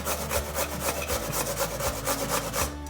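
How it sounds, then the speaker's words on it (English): Peeled potatoes rasped over a grater for latkes, a steady rhythmic scraping in repeated strokes, close and fairly loud with no talking. "grate the potato like this."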